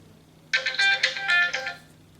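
A Pantech Hotshot Verizon phone plays its ringtone, a bright electronic melody of quick repeated notes lasting about a second and a half, loud and close after a brief quiet start.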